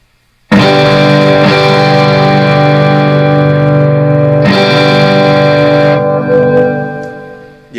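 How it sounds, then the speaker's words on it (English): Electric guitar through an Egnator Tweaker 15 amp head with the gain turned down, breaking up into power tube distortion: two sustained, ringing chords, each struck hard and left to decay, loud and close with no voices. "the breakup we're getting is actually power tube distortion, not gain, because I turned the gain down"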